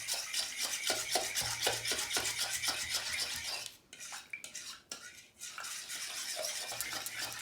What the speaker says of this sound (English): Stir, stir, stir, stir, stir.